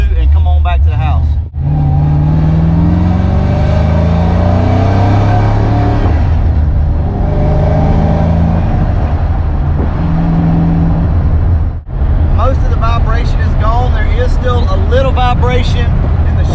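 Recently repaired car driving and accelerating hard, with a loud, close engine roar that climbs through rising revs and pauses briefly at shifts. Someone talks over it.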